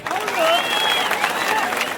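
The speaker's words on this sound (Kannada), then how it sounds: "ಜೋರ ಚಪ್ಪಾಳೆ ಹೊಡಿರೋರಿ" Loud, sustained applause from a crowd of farmers at a multi-day protest demanding a fixed sugarcane price, steady clapping throughout with voices and whistle-like tones rising over it.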